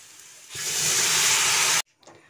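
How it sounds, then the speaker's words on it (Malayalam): A loud burst of steamy hissing and sizzling erupts as water is poured into a hot pan for rava upma, holding steady for over a second, then cuts off abruptly, leaving faint clinks. "ഞാനിതിലേക്ക് വെള്ളം ഒഴിച്ച് കൊടുക്കുക"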